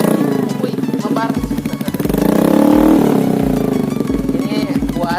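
A Yamaha Mio GT scooter engine with a modified setup revs up and down in repeated bursts nearby, swelling to a loud peak midway, while people talk over it.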